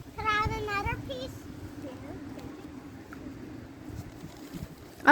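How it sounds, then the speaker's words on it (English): Seagulls being fed bread give a brief, wavering cry near the start, then fade into a steady outdoor rumble while people talk. "Oh, seagulls are coming, guys."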